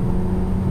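A 2020 Toyota Camry TRD family sedan in sport mode with a little gas applied, giving a steady, loud, close engine and exhaust drone that holds even without rising or falling, with no voices.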